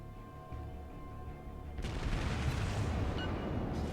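Heavy naval gunfire in a warship video game, a low rumbling roar of shell fire and booms that swells after a steady engine-like hum, continuous and dense with no speech.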